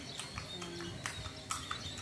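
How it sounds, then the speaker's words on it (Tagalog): Horse hooves clip-clopping on the cobbled Calle Crisologo street in Vigan, Ilocos Sur, sharp irregular knocks over steady street background with faint bird chirps and talk. "di ba napapagod yung kabayo mo?"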